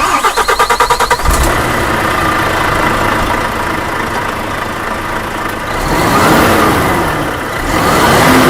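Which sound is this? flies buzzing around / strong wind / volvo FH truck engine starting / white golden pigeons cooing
volvo FH truck engine starting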